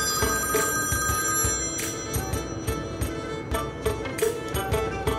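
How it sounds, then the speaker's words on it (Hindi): Telephone ringing on and off and left unanswered, a steady repeating electronic ring at close range, with no one speaking. "यशम फोन नहीं उठा रही है"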